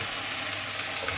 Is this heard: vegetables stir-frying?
yes